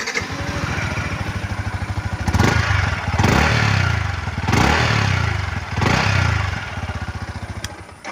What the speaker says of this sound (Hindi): अभी आपको MT15 का जो एग्जॉस्ट नोट है वो भी आपको सुना देता हूँ